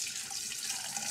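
Dark chaga tea being poured into a strainer, heard as a steady, close splashing stream of liquid throughout the short moment.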